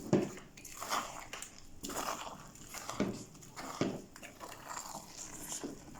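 Halwa being stirred in a pan as its oil separates and the syrup dries, giving repeated soft squishing and scraping strokes in an irregular rhythm, close and moderately quiet.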